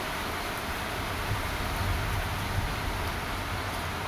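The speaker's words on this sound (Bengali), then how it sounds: "এদিকে দেখুন ঝমঝম করে বৃষ্টি হচ্ছে" Heavy rain falls steadily seen from a balcony, a continuous even hiss of downpour with no breaks, moderately loud and close throughout.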